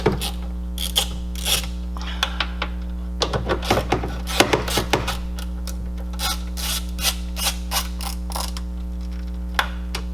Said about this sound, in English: so we're gonna loosen these hose clamps that are right here.